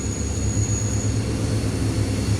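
Steady low rumble of a train rolling along nearby railway tracks in Pattaya, Thailand, a continuous rhythmic throb with faint high squeal, fairly close and without voices.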